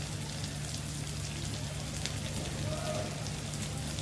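Half-fried onion sizzles in a pan as chopped ginger and green chili are added, cooking for a lentil and bean dal; a steady, even crackling fry continues throughout at moderate volume.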